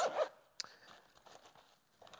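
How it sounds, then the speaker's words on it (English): A zipper on a tactical modular abdominal pouch is pulled open in one short, quiet rasp, followed by faint handling noises of the fabric. "so you could open the zipper nice and fluidly"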